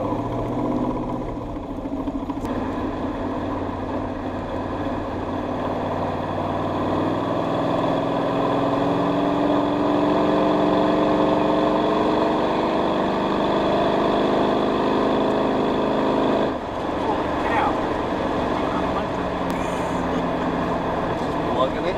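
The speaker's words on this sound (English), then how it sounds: "It seems to just go straight to the idle." LS7 V8 idling in a Chevrolet S10 being tuned, a loud steady low rumble that holds throughout, with a slight shift partway through and a person talking over it.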